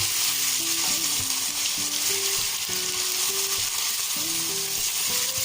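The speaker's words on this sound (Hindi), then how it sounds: "गोश्त भी फ्राई हो चुका है।" Chicken meat frying in a pan, a dense, even sizzle close up that holds steady throughout, with no voices.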